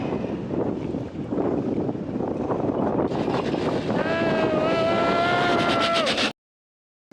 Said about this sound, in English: I'm really sorry about the wind.